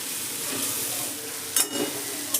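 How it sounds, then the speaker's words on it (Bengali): Grated half-ripe papaya fried in ghee for papaya halwa, sizzling steadily up close while a spoon scrapes and stirs it in a few sharp strokes toward the end. "ঘিয়ে পেঁপেটা দিয়ে আমি খুব ভালো করে এবার পেঁপেটাকে ঘিয়ের মধ্যে নেড়ে নেবো"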